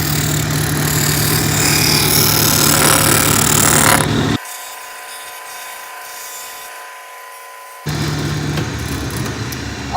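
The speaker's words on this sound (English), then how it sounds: "the first one we're gonna go to is the disc sander to get our edges to be right where we want them to be" A disc sander shaping the edges of a wood block runs loud and steady with a broad grinding whir, cuts out for a few seconds in the middle, then starts again, with no dust collection running.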